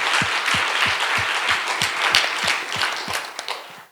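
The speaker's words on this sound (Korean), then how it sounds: "박수로 하나님께 영광" A church congregation claps together in a steady, even rhythm, about three claps per second, close and fairly loud, with a wash of crowd noise and no clear voices.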